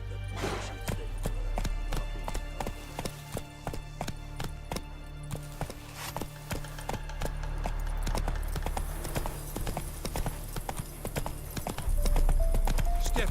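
Roach the horse's hooves clip-clop steadily through The Witcher 3, a regular trotting rhythm, close by, over a busy backdrop of ambient game sound, with a louder burst of hoofbeats near the end.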